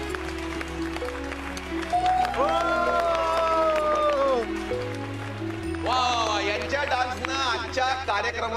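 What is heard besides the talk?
audience applause for a dancer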